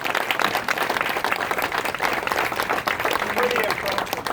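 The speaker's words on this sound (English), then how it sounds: "How about a round of applause?" Audience applauding at a ceremony for students after drill instruction, a steady, loud wash of clapping and cheering that fills the whole stretch without pause.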